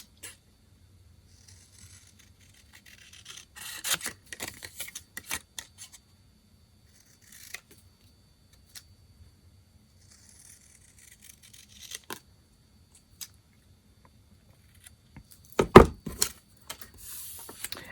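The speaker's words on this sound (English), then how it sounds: "I'm going to take my scissors and just fussy cut this" Scissors fussy cutting paper for a handmade Christmas card, a few quiet snips and rustles spread across a mostly silent stretch, with a louder burst of cutting near the end.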